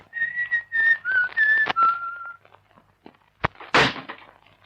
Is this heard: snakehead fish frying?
no